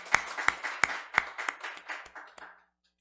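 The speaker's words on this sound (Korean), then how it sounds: "하나님께 영광의 박수 올리겠습니다" A short burst of congregation applause at a prayer meeting: a few sharp, loud claps ring out over scattered clapping that fades to silence within three seconds.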